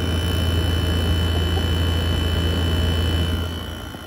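A Midea 5000 BTU window air conditioner with a rolling fan motor runs as a steady, even hum and whir with a low tonal drone, loud and close throughout, easing off slightly at the end.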